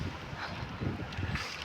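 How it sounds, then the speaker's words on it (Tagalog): Steady wind buffets the microphone in a low, rough roar with gusty swells, fairly loud and continuous, with no talking. "Sarap ng hangin."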